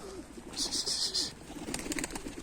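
Pigeons flapping off in flight, a few bursts of wingbeats with soft coos nearby, fairly faint against quiet outdoor background.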